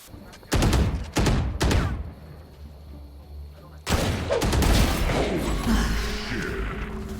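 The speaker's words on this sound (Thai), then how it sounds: "มันยิงไวมากเลย" Rapid gunfire in a ranked video-game match, loud bursts of shots in quick succession at first, then a denser sustained volley, with excited voices talking over it.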